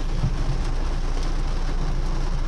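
Rain falls on a moving car during a drive in San Jose del Monte, Bulacan, giving a steady, even wash of patter over the low hum of the engine and road, with no voices.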